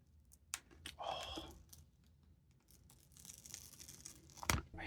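Quiet crackling and tearing sounds come in short bursts as a kiss-cut sticker is peeled from its backing, ending with a sharper rip.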